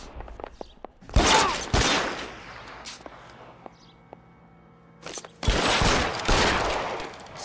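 Loud bursts of gunfire in a 1940s Los Angeles police shootout in the game LA Noire, two dense volleys separated by a quieter stretch with scattered single shots and footsteps.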